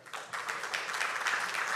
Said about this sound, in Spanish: Los recibimos con un fuerte aplauso.